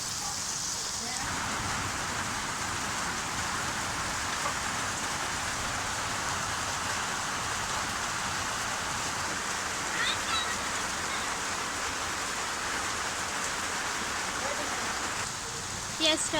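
Steady rain falls throughout while egg curry is being cooked, a dense continuous hiss with a slight change near the start and end.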